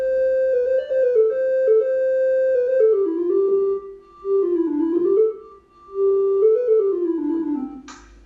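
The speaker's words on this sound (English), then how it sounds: "So here's the famous Bolero melody." The Bolero melody plays back as a single clear synthesized line, a smooth, steady tone that winds up and down with brief dips, heard alone and close.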